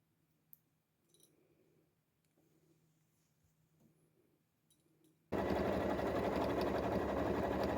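A sewing machine stitching sleeves from flame-pattern material: a quiet stretch with faint handling noises, then a loud, steady, close whirring run from about five seconds to the end.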